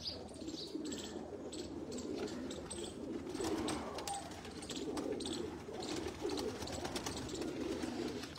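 Pigeons coo in low, repeated calls on a rooftop in Faisalabad, Pakistan, against a busy background of chirps and occasional wing flaps, with no one speaking.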